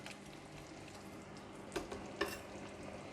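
Fish sauce thickened with tapioca flour simmers in a pan, a soft, steady bubbling sizzle with two brief scraping stirs, faint and heard alone.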